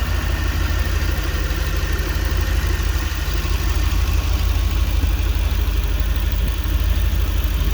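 A Toyota Land Cruiser FZJ45 on an 80-series chassis with a swapped 4.7L V8 idles in a steady, even low rumble, close and continuous with no voices.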